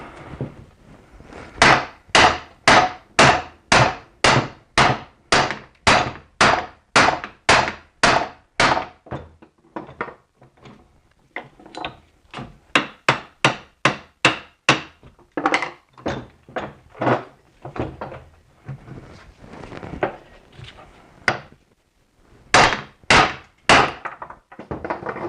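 A hammer pounds on the U-joint of a Toyota 4Runner driveshaft during a DIY replacement. Dozens of loud, close metallic thunks land in steady rapid runs, broken by brief pauses between sets.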